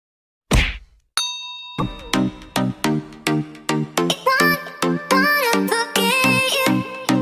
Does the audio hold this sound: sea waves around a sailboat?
no